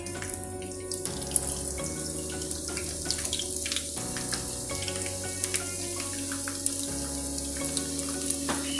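Onions sizzling in hot oil in a home kitchen pan while a vegetable dish is cooked, a steady, fairly quiet frying hiss with faint tonal background hum throughout.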